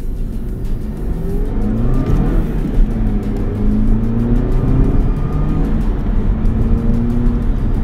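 An Audi TT Mk2 engine revs hard and climbs steadily through rising pitch, loud and close, with brief drops between manual gear changes.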